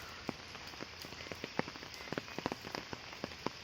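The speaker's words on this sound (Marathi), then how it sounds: "पाऊस रिमझिम रिमझिम पाऊस आहे जोरदार नाही आहे" Light drizzle patters softly, with scattered individual drops tapping nearby in an irregular rhythm over a quiet, faint hiss.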